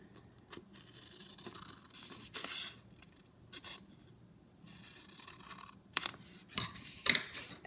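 Scissors snip through paper for a Halloween graveyard pop-up card, a series of short, close rasping cuts with a few sharper, louder snips near the end. No one speaks.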